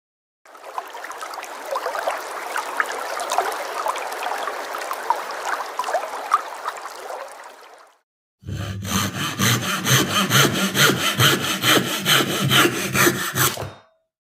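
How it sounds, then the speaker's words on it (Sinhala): Firewood being sawn in a forest in a cartoon, first a long stretch of rough scraping strokes, then a brief pause and a louder, rhythmic back-and-forth sawing passage that ends abruptly. "සිගිතිගේ අම්මයි තාත්තයි කැලේ දර කපමින් හිටියා."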